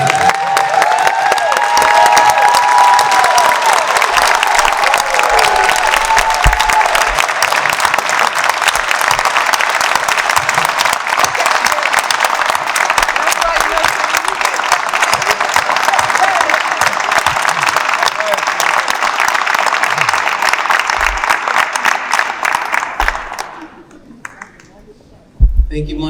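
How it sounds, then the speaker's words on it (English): Sustained audience applause fills a fundraising gala for a prison outreach ministry, loud and steady with scattered cheers for over twenty seconds before tapering off abruptly near the end. "give her the biggest round of applause"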